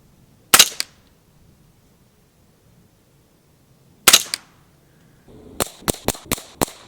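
A CZ Scorpion EVO 3 S1 carbine in .22 rimfire fires outdoors: two sharp single cracks a few seconds apart, then a quick string of five shots, each a dry, clipped pop with little echo.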